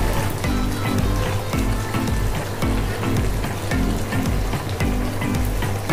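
Tomatoes hit a hot pan of pabda fish curry and set off a steady, dense sizzle. The frying hiss holds loud and close throughout with no talking.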